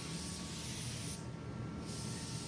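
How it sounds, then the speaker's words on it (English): An Astro Pneumatic Euro Pro spray gun lays down a coat of paint with a steady, close airy hiss that briefly thins in the middle before resuming at full strength. "Okay, let's spray another coat on here."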